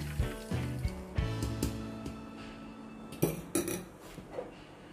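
Fried shallots and tomato are ground by hand, giving a run of close, rhythmic knocks and scrapes of the grinding tool against the bowl, loud at first and then a little sparser.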